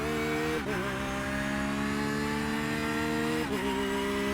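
A Porsche GT3R racing engine revs hard at Imola in the iRacing game, a bright, steady rising whine with two quick upshifts dropping the pitch before it climbs again, loud and up close.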